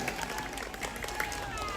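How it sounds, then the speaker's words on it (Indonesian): At a schoolchildren's folk-games contest, a crowd gives a short burst of scattered hand clapping amid voices and outdoor noise. "tepuk tangan dulu, tepuk tangan."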